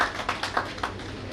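Scattered hand clapping welcomes a guest at a district-level investors' meet ceremony in Karauli, Rajasthan: several short bursts of claps, sparse and uneven rather than a full ovation, with faint background murmur.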